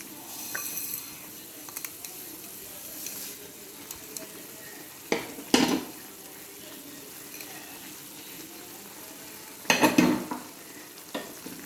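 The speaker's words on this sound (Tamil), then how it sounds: "நல்லா கொதிச்சுட்டு இனி நம்ம வறுத்து வச்சுருக்க சேமியா அதில் ஆட் பண்ணிடுவோம்" Roasted vermicelli goes into a pot of boiling water for egg semiya, with a soft steady bubbling and sizzle under a few sharp clatters of stirring and spoon taps against the pot.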